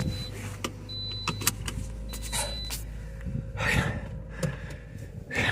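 Inside a car as the driver gets ready to head home: a power window whirs, small clicks and rustles follow, and faint breathing sounds come close by.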